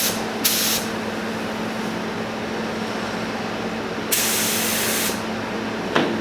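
Steady, loud hiss of a paint spray gun painting a Subaru WRX STi runs throughout, with brief brighter bursts as the spray opens up, close by and without speech.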